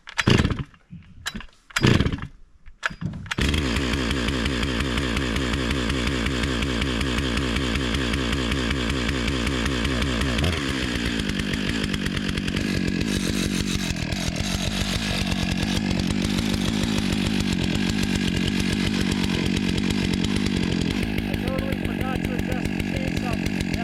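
Chainsaw milling hemlock logs: a few sharp revs at the start, then a long continuous loud roar of the saw cutting through the wood, the pitch shifting partway through as the load changes.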